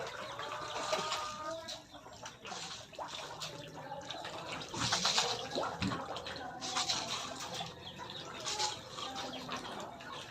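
Chickens being fed, close clucking and scratching over splashing, pouring water sounds, with intermittent louder clatters as the feeding goes on and a voice talking now and then.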